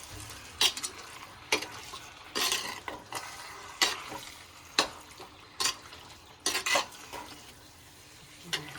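Chicken curry with yogurt stirred in a pan, repeated loud spoon scrapes and knocks against the metal over a low simmering sizzle, close and without talk.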